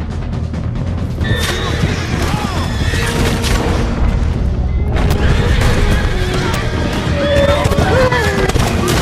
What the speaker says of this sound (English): we'll do the pump action shotgun for a change with slugs